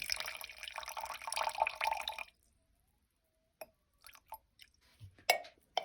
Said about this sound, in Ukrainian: Додаємо сюди 60 мл теплої води, наливаю 60, не 50, уже 60.